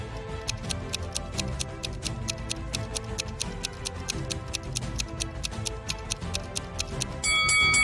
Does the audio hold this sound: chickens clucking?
no